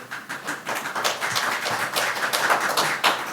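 Applause breaks out at a town board of commissioners meeting, a small group clapping in an irregular but steady patter, moderately loud and close.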